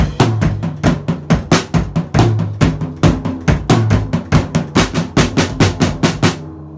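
A drum kit plays a steady beat alone at close range. Even eighth notes alternate across the snare and floor tom over a kick on the quarter notes, a dense run of sharp hits, with a faint ringing tail at the end.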